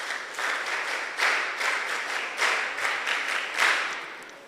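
An audience at a girls' school mentorship session claps in a broad, continuous wave of applause that swells and eases several times, close and fairly loud, with no talking over it.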